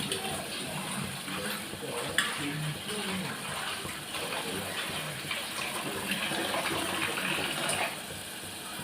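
Water is poured steadily into a cooker of rice for dinner, a continuous soft gushing and splashing that stays moderately quiet for several seconds in a home kitchen.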